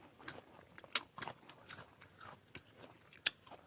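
Close, crisp crunching of bites and chewing on a crunchy Kim Ju guava dipped in chili salt, sounding as irregular snaps and munches in a quiet setting.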